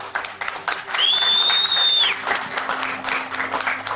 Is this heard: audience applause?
yes